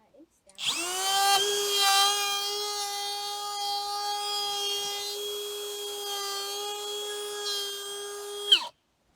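A power tool cuts through wood for a raised vegetable garden bed, a loud steady whine with strong harmonics running for about eight seconds before stopping abruptly.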